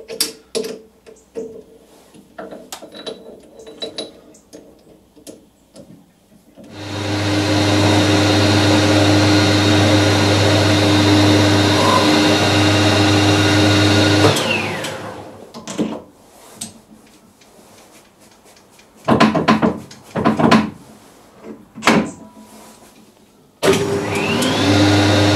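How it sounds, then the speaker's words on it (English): Metal lathe turning a piece of unknown steel: a loud steady motor drone starts, runs for several seconds, then stops, followed by intermittent clunks and short bursts of machining noise in a workshop. "let's put them in the lathe and give them a run"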